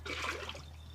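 Water is poured to fill a garden container, a steady splashing trickle that runs unbroken for a moment, close and moderately loud.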